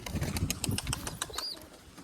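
Pigeons flap their wings close by in a series of quick rapid bursts that fade out, with a faint brief squeak near the end.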